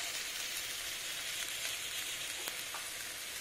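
Finely chopped bottle gourd frying in a pan over a low flame until browned, a soft, even, continuous hiss like light rain, faint and steady with no voices.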